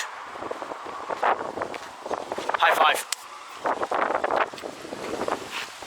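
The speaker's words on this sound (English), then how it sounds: "It's a bit windy here." Strong gusty wind by a lake near Puerto Natales buffets the microphone in uneven bursts while a person talks briefly over the rushing air.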